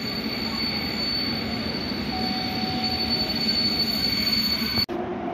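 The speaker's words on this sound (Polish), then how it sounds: "I odjeżdża EPZO" TLK Małopolska passenger train EPZO 7456 departing through Tarnów, a loud continuous rolling rumble of wheels on rails with a high steady squeal and a brief tonal whine, cut off abruptly near the end, no talking.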